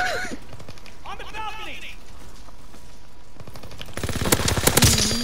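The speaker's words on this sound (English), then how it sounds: "There's so much gunfire." Rapid bursts of gunfire in Call of Duty: WWII crackle in dense volleys, with synthetic swooping tones early on and a louder flurry of shots toward the end.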